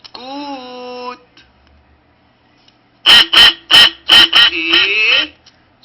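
A farmyard duck gives a run of about six loud, close, nasal quacks in quick succession, coming after a long, drawn-out call and a short pause.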